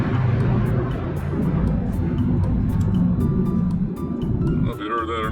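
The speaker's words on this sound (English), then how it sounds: "there was a jet just went over" A military jet passes overhead in eastern North Carolina, a steady broad roar that fills the whole clip and shifts near the end, heard under a voice talking.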